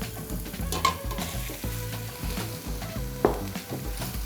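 Ground beef sizzles with onion and carrot in a hot pan for pastel de papa, a dense crackling fry broken by repeated scraping stirs of a spatula.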